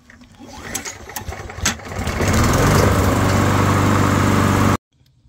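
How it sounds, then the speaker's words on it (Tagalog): A Toro Recycler 22-inch lawn mower, model 20065, is being tested with its front drive engaged. The engine sputters, then settles into a loud, steady roar close by, and cuts off abruptly near the end. "Subukan natin kung gumagana yung front drive nya bago natin ikabit yung cover."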